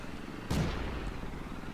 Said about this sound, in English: The T-28 is what I'm shooting at the moment